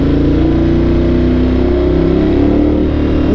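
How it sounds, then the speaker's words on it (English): A Ducati 1200 Multistrada Enduro motorcycle engine runs loud and close with a steady, throaty drone that shifts slightly in pitch as it revs. "Oh my god, this bike sounds so good."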